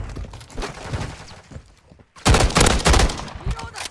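A powerful weapon fires in Modern Warfare 3 (2023) invasion gameplay, scattered shots early giving way to a loud, dense burst of rapid gunfire in the second half.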